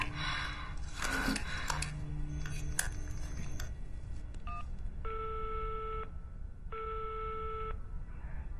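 A landline telephone dials out to call the caller's mother: a quick run of dial tones and clicks early on, then two long, steady ringback tones separated by a pause, fairly close and with no talk.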